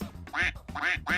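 A duck quack sound effect plays as three sharp, nasal quacks in quick, even succession, loud and close with nothing else behind them.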